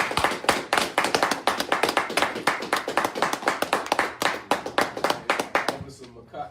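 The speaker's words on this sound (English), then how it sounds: "Clap it up." A crowd claps steadily in rapid, dense bursts for several seconds, loud and close, with the applause thinning out at the very end.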